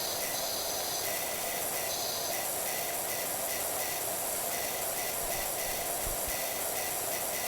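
Steady, loud hiss of a pressure washer spraying through a green nozzle in PowerWash Simulator, continuous broadband rush with slight pulsing as the spray moves, no talk.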